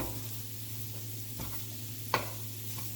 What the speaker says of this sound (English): all you're doing here is just breaking that up and browning it